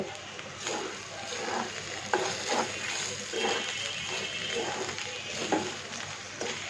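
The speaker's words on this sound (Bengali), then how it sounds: "দেখেন আমার নারিকেল খুব ভাজা ভাজা হয়ে, ওই যে তেল দেখা যাচ্ছে, তেল বেরিয়ে এসেছে" Grated coconut fries in oil for a Bengali prawn malai curry, giving a steady close crackle with scattered sharper pops and scraping stirs, a faint voice murmuring beneath.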